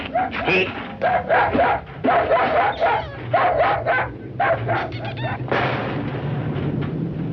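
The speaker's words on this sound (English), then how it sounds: "tell him to take that howling mutt with him" A dog barks again and again in loud, rapid bursts under a steady low hum, with the barking easing into a continuous whine near the end.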